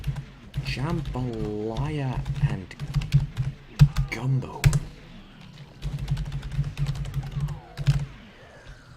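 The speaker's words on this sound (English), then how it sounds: "I am so slow at typing them" Computer keyboard typing while playing The Typing of the Dead, rapid clattering keystrokes running under a continuous voice and game music throughout.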